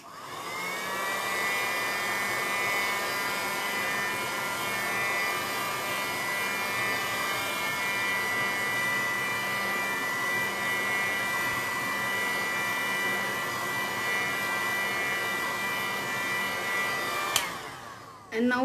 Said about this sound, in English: So I'll just use heat gun